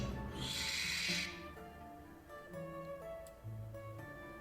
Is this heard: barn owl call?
yes